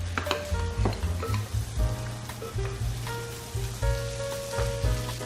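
Onions and dried shrimp sizzle and crackle in a hot pan for a shrimp pad thai, with a loud, close, dense frying hiss and occasional stirring scrapes, no voices.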